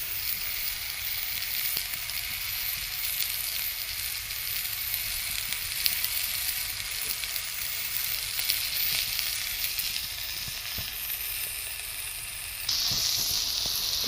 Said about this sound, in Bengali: দেখে নাও, আমার বেগুন ভাজা হয়ে এসছে